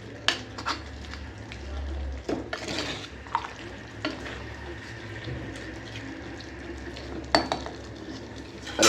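A spoon stirs handi chicken curry in a pot with a soft sizzle underneath, giving scraping clinks against the metal at irregular intervals over a low steady cooking hiss.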